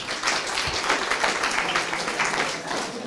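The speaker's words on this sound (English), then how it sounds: "Let's clap for them." Audience clapping at a school public speaking forum, a sustained, fairly even patter of many hands with faint voices mixed underneath.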